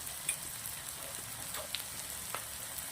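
Okra frying in oil, a soft, fairly quiet sizzle with a few small pops and spits over a short stretch.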